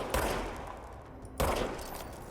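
Two loud, close gunshots from the service weapon in the video game Control, a little over a second apart, each followed by a short decaying tail.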